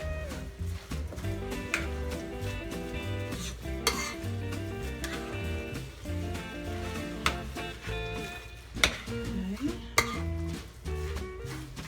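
Hashbrown casserole ingredients being stirred and combined in a dish, with repeated scraping and clinking of a utensil against the dish in an uneven rhythm and a few sharper knocks, fairly close and quiet.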